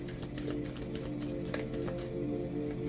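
A deck of playing cards being shuffled, with a steady, close riffling and flicking texture running through the whole stretch over a constant low hum, with no talk.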